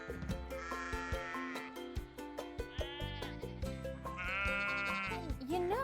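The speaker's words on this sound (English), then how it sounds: "my favorite part is all these sheep that are here" Several sheep bleat repeatedly over one another, with loud wavering cries close by in steady succession and a busy flock murmur underneath.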